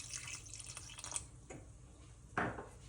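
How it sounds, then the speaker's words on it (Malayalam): A small splash of water poured into South Indian chicken curry, heard as soft, close dripping and trickling with a brief louder splash near the end. "ഗ്രേവി കുറച്ചും കൂടെ വേണമെന്നുണ്ടെങ്കിൽ ഈ സമയത്ത് ലേശം വെള്ളം കൂടി ചേർക്കാം"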